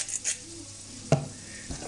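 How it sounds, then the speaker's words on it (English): Soft, steady sizzling of salted beef frying in a hot pan for stew, with a light clink of a utensil partway through, no voices. "you see that all frying up now"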